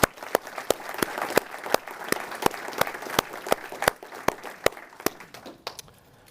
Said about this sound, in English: So let's give those three coasties a round of applause.